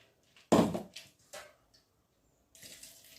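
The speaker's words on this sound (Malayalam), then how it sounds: "കുറച്ച് മാത്രം ഒഴിക്കുക അതായത് ഈ ഉഴുന്ന് അറിയാനുള്ള വെള്ളം മാത്രം" Short splashes of water poured onto soaked urad dal before grinding, one strong close gush followed by a few smaller pours with gaps of quiet in between, no talk.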